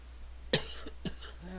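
Two sharp coughs, loud and close, from a man playing Minecraft, followed by a brief faint tone.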